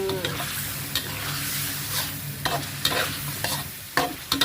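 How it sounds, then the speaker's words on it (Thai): Eggplant stir-fried for a spicy Thai chicken curry gives a continuous close sizzle, broken by repeated spatula scrapes and knocks on the pan, with a few sharper clatters near the end. "ก็ผัดให้ มะเขือเขา สุกก่อนนะคะ"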